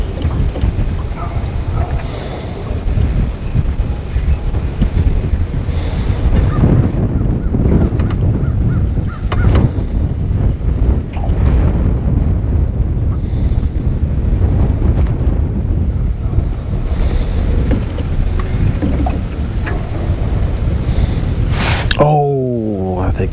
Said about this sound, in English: Well, the wind has really picked up.